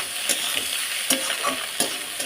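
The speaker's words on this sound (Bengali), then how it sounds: "এবার একটু ভালো করে নাড়াচাড়া করে নেব।" Leftover rice pulao with lemon juice stirred in a hot pan, a soft sizzle broken by several sharp spatula scrapes and taps at an uneven pace.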